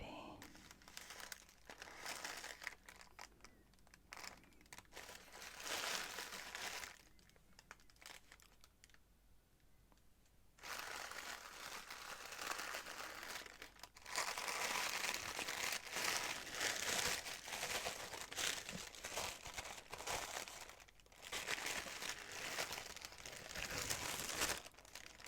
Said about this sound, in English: nice crackly tissue paper